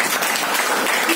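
An audience at a health awareness program in Boisar, Palghar bursts into brief, dense clapping, a short loud burst heard on its own.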